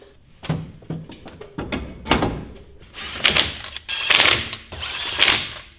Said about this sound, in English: we'll go ahead and get our top bolts tightened, or nuts, as it were